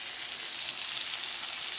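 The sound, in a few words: fish frying in oil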